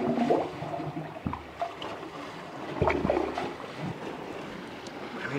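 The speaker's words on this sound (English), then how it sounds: "it's like pipes that the waves go over and it makes noises" Waves slosh and surge through the pipes of a sea organ, producing low hollow gurgling tones and airy whooshes that rise and fall, with no talking.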